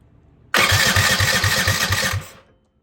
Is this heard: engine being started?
yes